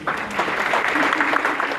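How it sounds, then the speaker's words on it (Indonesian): Brief burst of audience applause during an Indonesian church sermon, steady crowd clapping with voices mixed in throughout. "Ada yang tepuk tangan."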